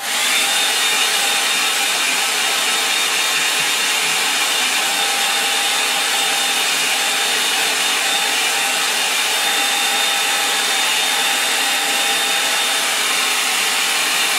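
A hair dryer blows steadily to dry a watercolour painting of a winter Lake District scene, a loud constant whooshing hiss that runs unbroken with no talk.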